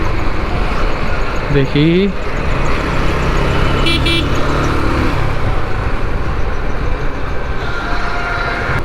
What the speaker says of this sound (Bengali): এই যে গেলাম ওভারটেক করে